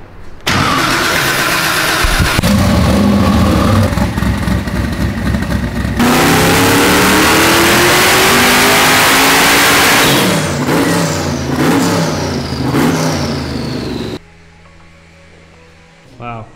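A 427 LS engine with no air filters revs hard on a dyno, roaring loud and close in a long sustained pull with rising pitch, then cutting off to a quiet hum.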